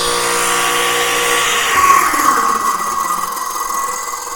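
Radial arm saw running while jointing lumber, a steady high motor whine that shifts in pitch midway and then winds slightly down, loud and close with no voices.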